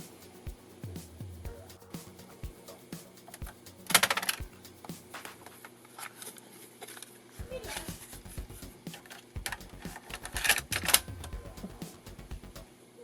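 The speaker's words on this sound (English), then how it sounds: "I'll get one of these, into a tape drive" Cassette tape being loaded into a ZX Spectrum tape drive: a close series of plastic clicks, clacks and rattles, with sharper bursts of handling noise near the start and again toward the end.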